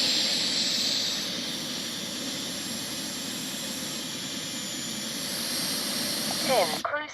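Freewing A-4 Skyhawk 80mm RC jet taxiing on a runway, a steady whining turbine-like hiss and rumble held close and loud throughout, swelling briefly near the end, with people talking faintly over it.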